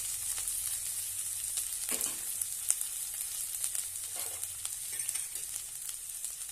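Cooked rice is stir-fried with curry leaves in a pan, a steady soft sizzle broken by scraping and tossing sounds from stirring, moderately quiet and with no voices.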